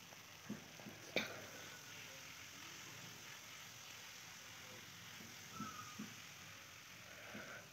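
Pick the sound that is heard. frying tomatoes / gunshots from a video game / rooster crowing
frying tomatoes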